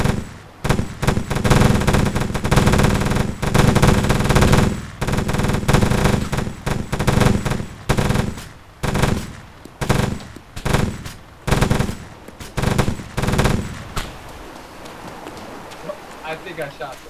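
Dense, sustained automatic gunfire bursts in ArmA 3 play close and loud in rapid overlapping volleys that break into separate bursts and then fade toward the end, with voices now and then.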